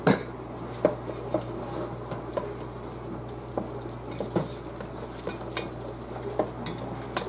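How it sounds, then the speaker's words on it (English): Mac and cheese being stirred in a pot, with soft scraping and wet patter of the spoon against the metal in an irregular rhythm over a steady low hum, close by and fairly quiet, with no voices. "You mix up the mac and cheese pot before you add the other stuff."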